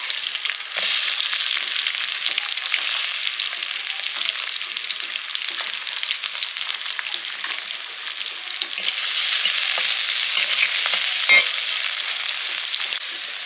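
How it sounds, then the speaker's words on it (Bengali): Onions fry in mustard oil in a pan, a loud steady sizzle and crackle with occasional stirring scrapes, close up and continuous with no talking. "পেঁয়াজটা হালকা ভাজা হয়ে গেছে"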